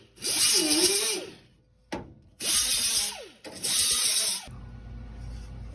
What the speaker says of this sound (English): Grinding these so they'll lay flat, because I drilled the holes to plug weld